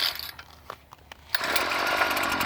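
A Tecumseh small engine on a Strike Master ice auger, just after carburetor replacement, catches after a few faint pull-cord rattles and bursts into a loud, steady buzzing run.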